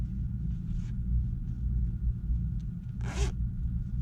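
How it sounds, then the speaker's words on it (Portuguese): A zipper on the back compartment of a handmade wallet, meant for keys, is pulled in a short quick burst with a fainter earlier pull, heard close over a steady low room rumble. "um zíper atrás para você colocar chave"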